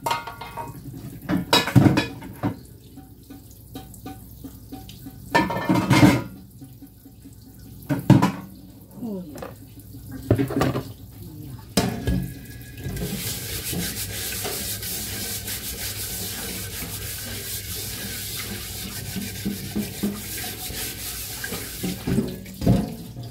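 Plates are washed at a kitchen sink: scrubbing and rubbing with clinks of dishes come in separate bursts, then a tap runs steadily under it all for the last ten seconds, with a little talk nearby.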